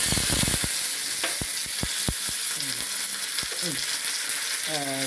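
Fenugreek seeds and curry leaves frying in oil for a Kerala tempering, a loud continuous close sizzle with sharp popping crackles and a few spoon scrapes against the pan.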